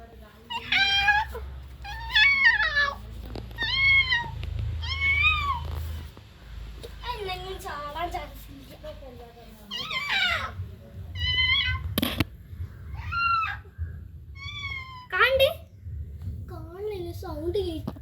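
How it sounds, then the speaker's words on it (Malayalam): Cat meowing repeatedly in a home, a string of clear, fairly close meows of varying pitch, with a voice and low background rumble underneath. "ഒച്ച ഉണ്ടാക്കി അത് പൂച്ച ഒച്ച ഉണ്ടാക്കുന്നുണ്ട്."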